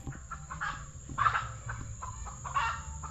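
Chickens cluck and squawk in a rural home garden with fruit trees in Thailand where ducks and chickens are kept, several close bursts of clucking at irregular intervals over a low background hum, no talking.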